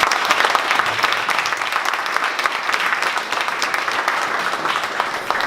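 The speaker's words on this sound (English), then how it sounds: "Can we get a round of applause?" An audience applauds at a Dallas 1 Million Cups presenter event, a dense, steady roar of many hands clapping throughout, even and sustained with no break.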